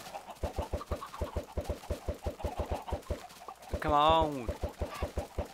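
Minecraft chickens cluck in quick, rhythmic bursts throughout, mixed with a voice speaking briefly and a louder warbling burst near the end.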